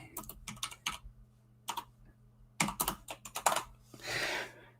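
Fast bursts of typing on a computer keyboard, close and quiet, coming in several clusters of clicks separated by short pauses, ending with a brief soft rustle.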